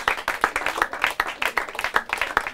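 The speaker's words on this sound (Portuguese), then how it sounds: "Palmas para eles!" Audience clapping for a team at a Portuguese-language quiz final: dense, steady applause of many hands with crisp, irregular claps, close and moderately loud throughout.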